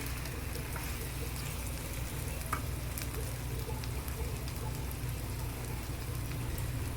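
Fish pieces fry in hot oil for a lemon-based fish curry while being stirred, making a steady, dense sizzle that stays constant throughout with no speech.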